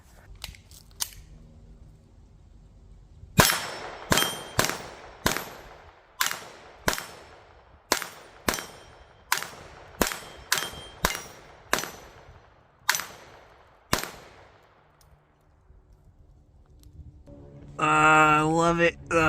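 Pistol with a red dot sight firing a long string of sharp, loud gunshots, some in quick doubles and others evenly spaced, each with a short ringing tail, ending in a burst of outdoor noise.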